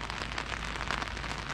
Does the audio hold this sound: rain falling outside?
yes